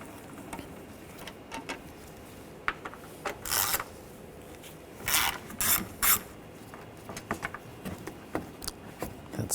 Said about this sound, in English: Using a 8mm socket, take these screws out.